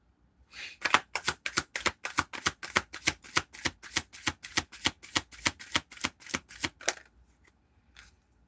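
Tarot cards riffle-shuffled in a rapid, steady run of about twenty crisp, close flutters over roughly six seconds, then a pause and one faint final snap, with no talking.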